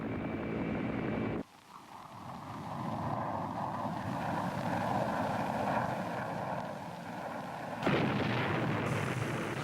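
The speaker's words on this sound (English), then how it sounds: "Fighter bombers and helicopter gunships hammered the landing zones." Heavy, continuous rumble of fighter-bomber and helicopter gunship engines with dull booming underneath during a Vietnam War landing-zone attack, loud and sustained, framed by brief bursts of other sound at the start and end.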